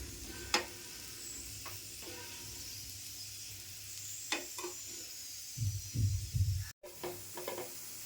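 Ragi ladoos roast in a nonstick pan while being flipped and stirred, giving a faint sizzle with scattered scraping knocks and a louder rustling stir near the end, with no voices.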